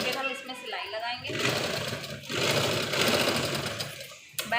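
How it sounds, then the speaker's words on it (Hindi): Sewing machine running steadily as it stitches along a garment neckline to attach piping, its motor whir continuous and fairly loud, with a voice talking over it. "उसके बाद हम सिलाई लगाते हैं।"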